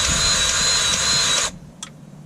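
Grease gun pumping lube into a grease zerk through a LockNLube grease coupler, a loud steady mechanical whir for about a second and a half that cuts off, followed by a brief faint click.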